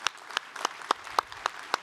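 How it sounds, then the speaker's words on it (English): Sparse, separate claps ring out for Ursula von der Leyen, President of the European Commission, at a Europe conference. About seven sharp hand claps are spaced roughly a quarter second apart against a quiet room, with no voices heard. "let's give another massive round of applause for President of the European Commission, Ursula von der Leyen"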